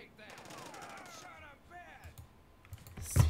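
Rapid machine-gun bursts in the World War II strategy game Blitzkrieg 2, crackling in quick rattling strings at moderate distance, mixed with keyboard clicks and a voice talking over it, ending in a sharper louder pop.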